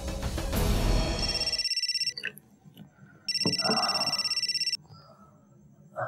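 A telephone rings in an indoor scene: a loud, close electronic ringtone in two long bursts separated by a pause, with faint rustling between the rings.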